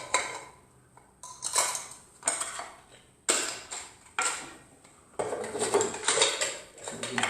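Camping cookware and a fry pan are handled and packed into a storage container, with a series of metallic clanks and clatters in irregular bursts, close and moderately loud, without speech.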